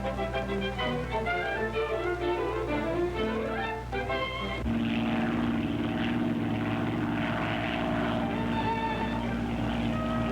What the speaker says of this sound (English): As the great engines of our flying clipper ships lift us once again into the sky above the China Sea